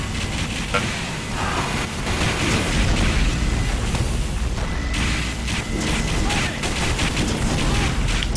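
Gunfire and explosions from a competitive Team Fortress 2 match, including an Ambassador revolver headshot on a soldier, in a dense barrage of shots and booms under excited commentary.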